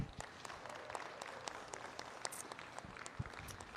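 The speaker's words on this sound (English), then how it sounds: "Let's give these folks a round of applause." Faint, scattered applause from a small crowd at an alpaca show awards ceremony, light uneven clapping at a distance throughout.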